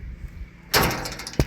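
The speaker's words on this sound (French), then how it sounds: "Bon, on ferme la porte, on sait jamais." A door is pushed shut with a sliding rush and a sharp latching knock at the end, close and moderately loud, while travelling by bicycle between Poyra and Rahmiye in Turkey.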